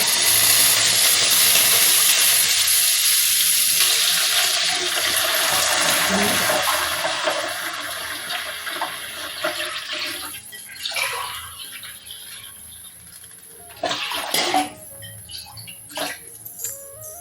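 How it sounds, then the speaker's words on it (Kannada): Water boils in a pan for wheat upma, a continuous loud hiss and bubbling that eases after several seconds into softer bursts and scattered clinks. "ನೀರು ಕುದ್ದಿದೆ ಚೆನ್ನಾಗಿ ಕುದೀತಾ ಇದೆ ನೋಡಿ ಕುದ್ಮೇಲೆ ಸೌಂಡು"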